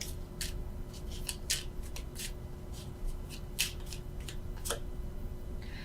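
Tarot cards shuffled and drawn by hand, giving a quiet, close series of crisp riffling and sliding bursts at an irregular rhythm over a faint steady hum, with no talking.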